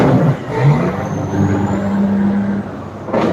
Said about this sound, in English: every time you hear a truck move so fast, and yeah, man, you know, say it empty